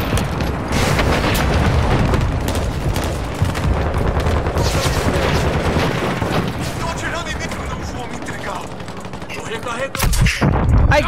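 Dense gunfire in the video game Call of Duty Warzone 2.0: loud bursts and rapid automatic volleys roll on almost without a break, with a heavy boom near the end, while players talk over the shooting.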